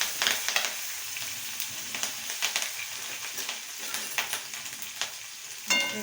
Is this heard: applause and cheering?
no